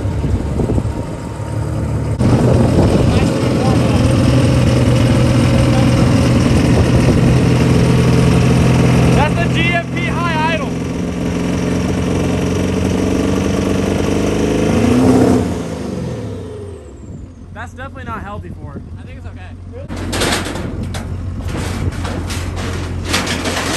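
A Cummins 12-valve diesel truck engine runs loud and close, holding a heavy steady drone with brief revs before dropping off after about fifteen seconds, as people talk over it.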